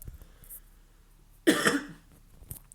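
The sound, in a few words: cough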